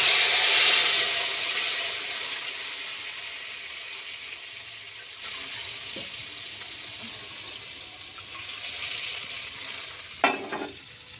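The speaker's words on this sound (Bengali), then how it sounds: "প্রথমে আমি সর্ষেটা দিয়ে দিচ্ছি, তারপর শুকনো লঙ্কাটা দিয়ে দিলাম" Mustard seeds and dried red chili hit hot oil in a pan, giving a loud hissing sizzle that fades slowly, with a few light clinks and a brief stir near the end.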